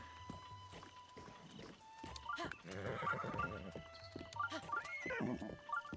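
A horse in Breath of the Wild whinnies and snorts several times amid soft hoof clatter and game ambience, with people talking quietly underneath.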